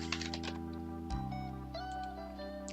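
Computer keyboard typing while renaming a calculation grid in lighting design software, a quick run of close, light keystroke clicks over a steady electronic hum, with no voices.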